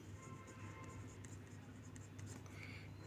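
Handwriting during a class 8 maths lesson, soft scratchy strokes of a pen or pencil on a page over a steady low hum, faint and with no speech.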